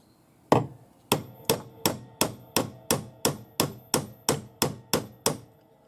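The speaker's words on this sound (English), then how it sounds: "it's quite easy to just hammer where the mark is" A hammer strikes a silver ring blank to flatten a spot, a dozen sharp metallic blows at a steady, slightly quickening rhythm after a first isolated hit, close and clear with no talk.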